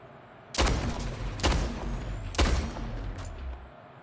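Three loud, sharp sniper rifle shots in a video game, evenly spaced about a second apart, each with a booming low tail and fading echo, with no talking.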